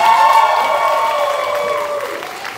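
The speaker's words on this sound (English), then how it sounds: "Can we give them one more round of applause?" An audience applauds after a school concert band's performance at a Band-O-Rama event, with steady clapping and a few cheers that slowly fade.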